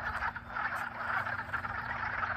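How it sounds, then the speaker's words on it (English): Frogs croak in a dense, continuous chorus at a pond during mating season, loud and steady throughout with no talk. "now I just came to this pond, and the frogs are probably mating."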